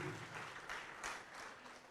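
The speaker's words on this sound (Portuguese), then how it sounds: "Vamos aplaudir mais" Church congregation clapping during a Portuguese-language sermon, a steady dense wash of applause across the whole stretch, moderately loud and reverberant, with a couple of sharper swells partway through.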